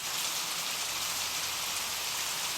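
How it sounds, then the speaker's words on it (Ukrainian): A played recording of raindrops, a steady, even patter of rain tapping on a surface, continuous and moderately soft with no voices. "Давайте послухаємо, як стукають краплі дощу"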